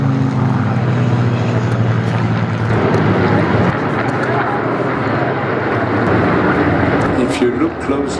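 Spitfire fighters fly over the Duxford airshow, and their propeller engines make a loud, continuous broadband roar that holds steady throughout, with a voice talking over it.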